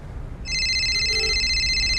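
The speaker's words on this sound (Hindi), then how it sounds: "किसका फोन है देखो?" An electronic telephone ringtone begins after a brief quiet stretch and keeps ringing steadily and clearly, a bright repeating tone over low background hum with nobody speaking.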